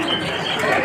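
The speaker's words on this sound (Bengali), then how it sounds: "এই যে এই কবুতরগুলো দেখছেন, অনেক দামি কবুতর।" Pigeons cooing in a loft on a pigeon farm, a short, dense, close murmur of soft overlapping coos.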